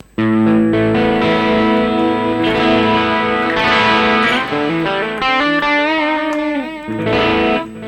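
Electric guitar played through a Rocktron Prophesy preamp on its Texas Blues preset, a fairly gritty, mildly distorted tone with chords and melodic lines ringing out, loud, close and steady, with no talking.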